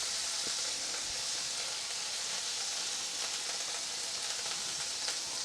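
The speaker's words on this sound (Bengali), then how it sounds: "এর মধ্যে আমি এবার দিয়ে দিচ্ছি হাফ চামচ আদা বাটা, দিয়ে আরও কিছুক্ষণ আমি এটা কষাতে থাকবো" Ginger paste stir-fried in a pan for Bengali Bata fish curry (macher jhol) gives a continuous, even, hissing sizzle, close by and steady, with no talking.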